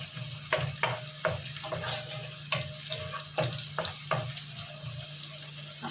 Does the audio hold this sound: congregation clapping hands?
no